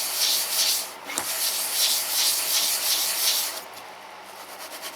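A small engine cylinder head being lapped by hand, a steady gritty rubbing and sanding scrape that repeats in rhythmic strokes, close and fairly loud, with one sharp knock partway through.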